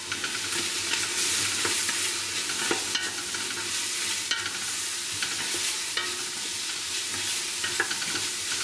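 Minced garlic, about seven or eight cloves, steadily stirred as it fries in a pan for a bean soup, giving a continuous close sizzle with light scraping strokes throughout and no talking.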